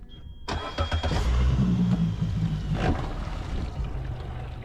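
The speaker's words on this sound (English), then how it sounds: "started the engine in safe water, and then weighed the anchor fully" The engine of a Nividic 550 rigid inflatable boat cranks and catches with a sharp start, then settles into a steady, close rumbling idle with slight revving.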